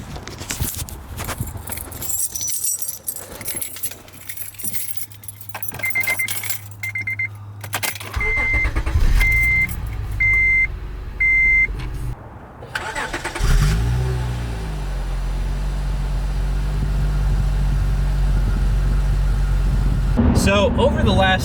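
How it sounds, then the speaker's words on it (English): A 2004 third-generation Acura TL with about 130,000 miles, keys jangling before the engine cranks and catches, then settles into a steady close idle; a person speaks briefly near the start. "let's give this car a start"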